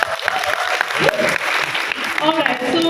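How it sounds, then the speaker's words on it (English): A crowd at a film trailer launch applauds the team, with loud sustained clapping and cheering throughout, voices mixed in. "shall we have a big round of applause for the team once again?"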